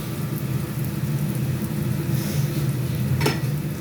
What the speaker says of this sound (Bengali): পেঁয়াজটা একটু ভাজা করে নিই